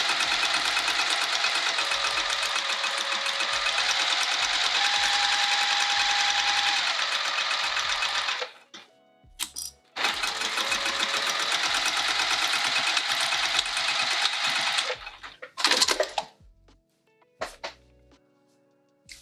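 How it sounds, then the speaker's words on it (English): A sewing machine runs in long, loud, continuous bursts while backstitching the top of a pocket on a sling, pausing briefly between runs with a few short stitches and handling clicks near the end. "I always backstitch at the top of pockets."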